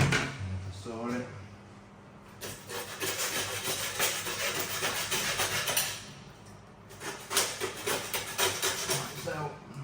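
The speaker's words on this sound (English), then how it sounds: "Like so, and then we're going to saw it off." A hand saw rasps through a deer's shoulder bone in bursts of rough back-and-forth strokes, a pause between passes, with voices talking in the background.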